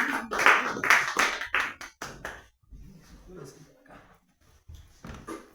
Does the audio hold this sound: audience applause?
yes